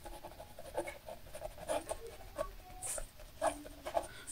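A pen scratches across paper during a math lesson, short irregular strokes and taps close by at a soft level, with no one talking over it.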